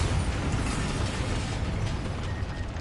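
A Bombarda blasting spell from Hogwarts Legacy, heard as a sustained rumbling, crackling explosion that stays loud and dense throughout, with no clear separate bursts.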